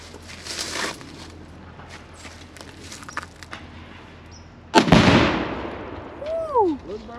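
A car blown up with Tannerite: after several seconds of quiet outdoor ambience with faint voices, a single loud near blast bursts out and decays into a long rumbling tail, followed by a few whooping sounds.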